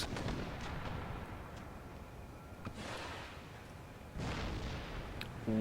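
Artillery and mortar fire in the Empire Total War video game, with several deep booming bursts spread across a steady rumbling battle backdrop, no voices.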